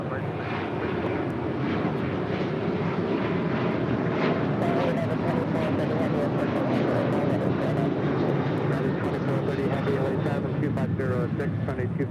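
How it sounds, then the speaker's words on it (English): A Boeing 737-700 BBJ jet roars on takeoff at LAX, a loud continuous engine rumble and whine holding steady throughout, with faint radio chatter beneath. "737 700 BBJ is departing to Kahului."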